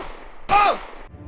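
A single sharp gunshot sound effect for 9 mm explosive-tip bullets, loud and close, a brief bright crack after quiet.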